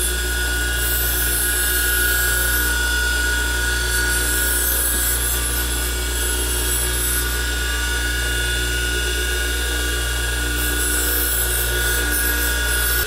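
A bench grinder cleaning burrs off the cutting edge of a woodturning tool, a loud, steady motor whine with a grinding hiss that runs on without a break, close and with no talking.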